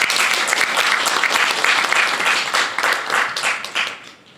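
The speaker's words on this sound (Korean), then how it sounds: "여러분들 동의하면 박수 한번 쳐주세요." Dense, steady applause from a seminar audience at a Korea Defense Industry Association policy seminar, many hands clapping at once, loud and close, fading slightly toward the end.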